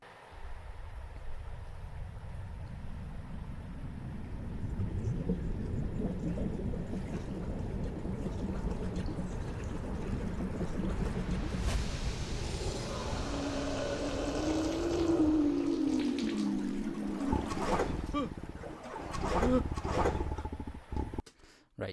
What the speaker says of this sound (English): that first sound of the screeching noise when it comes out of the water